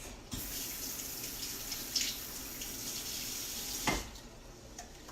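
Tap water runs steadily while two green onions are rinsed under it, a close, continuous hiss with a couple of brief splashy bumps.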